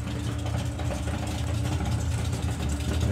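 Drag racing car engine running rough at a drag strip event, with a steady loud low rumble and irregular popping and banging throughout, no talk.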